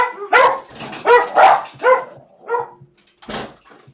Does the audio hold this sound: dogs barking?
yes